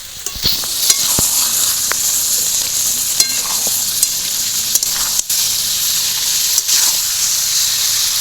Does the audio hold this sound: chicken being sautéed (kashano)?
yes